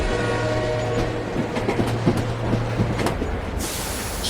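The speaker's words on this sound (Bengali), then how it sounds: "প্রবল ঝড় বৃষ্টির মধ্যে রাতের শেষ ট্রেন এসে থামল।" On a stormy night with heavy rain, the last train rolls into a station and stops. A steady, close rumble and rhythmic clatter of carriages fills the scene, joined by a long, sustained horn-like tone.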